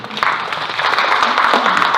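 An audience at a talk by Stephen Yarwood applauds with dense, steady clapping that fills the whole stretch at a fairly loud, even level, with no voices over it.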